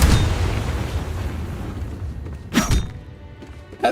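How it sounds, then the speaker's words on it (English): A flail blow in Baldur's Gate 3 gives a booming thud at the start, fading into a rumble, then a second sharper thump a few seconds later, with no talk. "What do you guys think of the thumping sound of the flail?"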